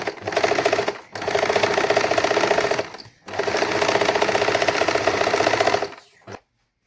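A sewing machine stitches a saree blouse in two long, steady runs of rapid mechanical chatter, loud and close, with brief pauses between them and a short final burst before it stops.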